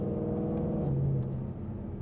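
A supercharged 2020 Mustang GT 5.0 V8 revs and drones low and steady, the pitch dipping briefly midway before settling, fairly quiet and with no talk over it.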